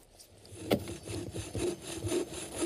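A portable sawmill cuts wood in rhythmic rasping strokes with a sharp knock near the start, moderately close and fairly quiet, with no talking.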